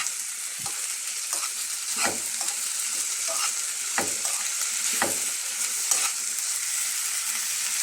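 Brinjal curry being stirred in a pan: several distinct scraping strokes of a spoon against the pan over a soft background sizzle, close by, no talking.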